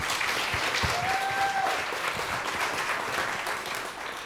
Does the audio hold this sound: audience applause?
yes